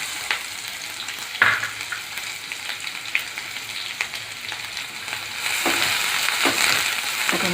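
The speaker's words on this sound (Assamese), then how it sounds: "প্ৰথমতে পিঁয়াজখিনি ভাজি ল'ম।" Onions sizzle in hot oil with cumin and fenugreek seeds, a continuous close crackle with occasional stirring scrapes that grows a little louder toward the end.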